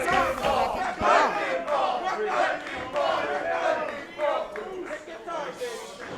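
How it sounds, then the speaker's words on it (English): Wrestling crowd at a GSW independent show roars and yells in a loud, continuous wave of shouting voices, surging and dipping throughout, like a rowdy chant egging on a wrestler. "Crowd's asking for it."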